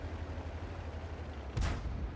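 A tank cannon in the video game World of Tanks fires once, a single heavy boom cutting through a steady low engine rumble, with no talk at that moment.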